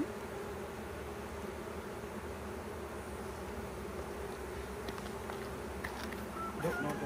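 Honeybees swarm around a hive in Alaska, giving a loud, continuous buzzing drone close by, steady throughout with a slight swell near the end.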